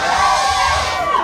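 A live comedy audience cheers and whoops in a loud, dense burst of shouting voices that holds steady for about a second.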